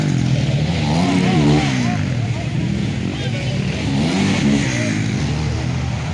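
Several 50cc motorcycle engines rev at the start of a race on a dusty dirt track. The engines rise and fall in pitch as they accelerate, loud and close, while an announcer talks over a loudspeaker the whole time.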